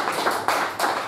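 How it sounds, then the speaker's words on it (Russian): A small audience clapping at a cabaret-style stage show, a few bursts of hand claps swelling and fading in quick succession, fairly close and lively. "Ваши аплодисменты,"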